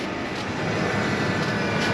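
A farm tractor running with a slurry spreader and macerator attached, a steady broadband mechanical drone with a hissing, whirring layer that holds evenly throughout at moderate level.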